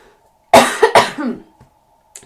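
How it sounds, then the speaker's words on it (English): A single harsh cough, a couple of quick bursts close to the microphone, followed by quiet and a faint breath. "had to cough there."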